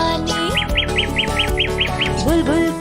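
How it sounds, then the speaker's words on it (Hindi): A young bulbul sings in a nursery rhyme: a quick series of about eight bright, repeated chirps over a musical backing, followed by a lower sliding call near the end. "बुलबुल का बच्चा गाता था गाने मेरे सिरहाने"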